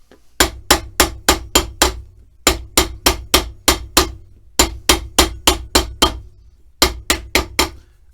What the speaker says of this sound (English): More hammer time!